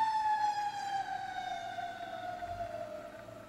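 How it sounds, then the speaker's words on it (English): A thin electronic siren tone from a Transformers Animated Blackout toy helicopter wails steadily, its pitch slowly sliding downward, fairly close and moderately loud. "And as I do that, a siren goes off."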